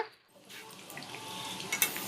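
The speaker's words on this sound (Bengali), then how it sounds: "আমি এবারে এই যে সিদ্ধ করা মইঠাগুলো ভেজে নেব তেলে" Quiet sizzling of boiled chital fish dumplings frying in mustard oil, growing a little louder, with a few faint clinks of a utensil against the pan.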